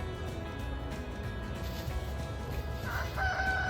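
Over a quiet low outdoor hum, a rooster crows once toward the end, fairly distant but clear.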